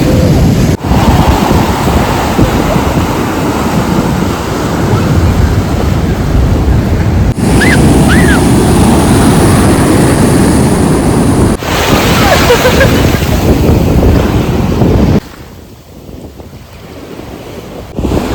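Sea waves roll onto the beach at Varkala's North Cliff in the evening, a loud continuous surf wash mixed with strong wind buffeting the microphone, easing somewhat near the end.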